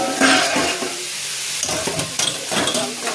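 Potatoes frying in a home pan, a steady close sizzle with scraping stir sounds and small crackles running through the whole moment, no voices.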